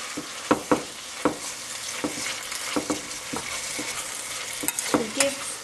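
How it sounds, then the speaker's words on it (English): Maldive fish chips are stirred into onions frying on high heat for seeni sambol, a steady close sizzle broken by repeated sharp scrapes and clacks of the spoon against the pan. "at this point I'm going to add in the Maldive fish chips."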